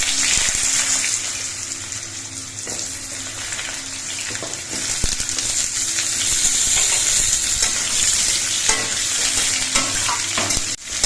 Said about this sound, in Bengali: এবার আলুগুলো কিছুক্ষণ ভেজে নিতে হবে